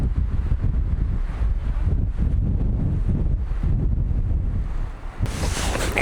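Wind on an arctic hilltop in Lapland, Finland, buffeting the microphone in loud, close, rough gusts that surge and ease, with a sharp bright burst near the end.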